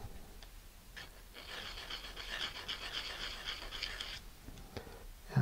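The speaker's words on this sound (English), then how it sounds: "And I've got some 220 grit sandpaper here. And I'm just going to do a circular motion." 220 grit sandpaper is rubbed in circular strokes over the ends of small aluminum tubes, giving a soft, hissing, breath-like scratching that rises and falls for a few seconds, close and quiet.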